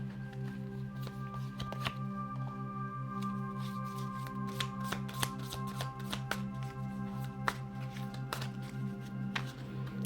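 Tarot cards from an artsy Muse deck are shuffled close up in a quiet room, giving repeated soft riffling and slapping bursts over a steady low hum, with no talking.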